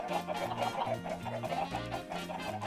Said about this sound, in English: You have to fight me in the domain of all my chickens.